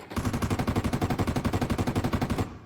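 Rapid automatic gunfire in a competitive shooter video game match, a dense, evenly spaced burst of roughly two dozen loud shots rattling continuously for over two seconds, then stopping abruptly.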